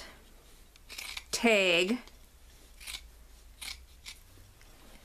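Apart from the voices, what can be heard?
scissors cutting a sweatshirt above the stitching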